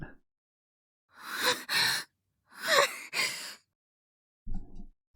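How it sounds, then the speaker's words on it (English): Sharp breaths from someone jumping out of bed, two loud gasping inhalations in a row, then a pause and another pair, close and breathy, with a short low sound near the end. "I jump out of bed with a gasp"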